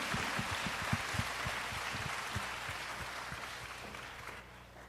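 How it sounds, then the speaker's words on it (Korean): A church audience applauds to welcome a pastor, a soft, distant patter of clapping that holds steady and then fades out at the end. "Please welcome him with a warm applause."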